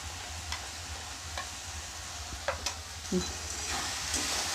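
Dal frying in a pan with turmeric powder and salt, a soft steady sizzle with faint scattered spoon scrapes and light clicks, close and fairly quiet throughout, no voices.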